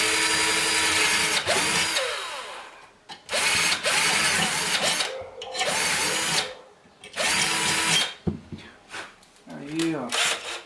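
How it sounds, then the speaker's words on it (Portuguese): Power drill enlarging holes in a part from a Philco PME25 microwave oven, loud bursts of drilling that start and stop several times, with brief ratcheting and rubbing between runs and a little talk. "vamos só aumentar os furos aqui"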